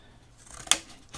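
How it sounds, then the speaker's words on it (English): A single sharp snip of scissors cutting a plank piece for a goblin-tower craft model, a crisp bright click near 0.7 s, close and alone amid quiet room tone. "remember, wiggle your scissors so you get that uneven edge"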